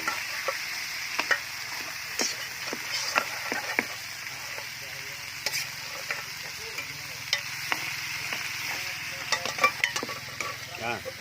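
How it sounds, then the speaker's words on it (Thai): Curry paste is stir-fried in a pan with catfish nearby, producing a continuous sizzle with frequent scraping and knocking from a stirring spatula in irregular rhythm throughout. "ผัดพริกแกงให้หอมนะครับเนาะ"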